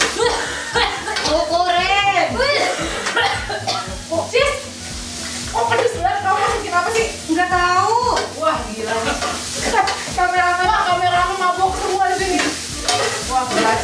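Corned beef and sliced sausage stirred and frying in a pan, with steady sizzling and scraping under continuous chatter and laughter from people cooking together.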